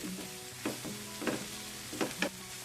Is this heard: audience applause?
no